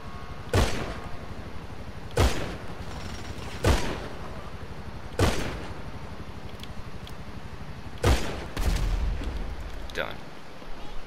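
Heavy gunfire from FMJ rounds in a video game, six loud booming shots spaced roughly one and a half seconds apart over a steady rumbling background.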